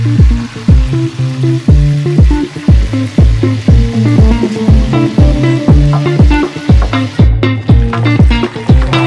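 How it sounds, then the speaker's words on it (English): A whole native chicken frying in oil, with a steady sizzle and a regular pulsing pattern throughout, loud and close with no talking. "So it's ready for frying."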